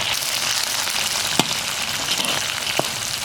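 Cilantro roots, dried chilies, Sichuan peppercorns, star anise, cinnamon bark, bay leaves and black cardamom fry with scallion, ginger, garlic and onion in hot oil, giving a steady, close sizzle with a few sharp pops.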